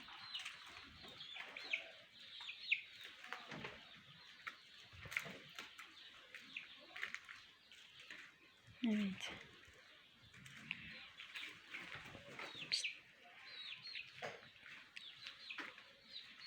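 Chicks and hens in a backyard garden with lettuce, giving a steady stream of thin high cheeps and soft clucks, close by and moderately loud, with a few lower calls scattered through.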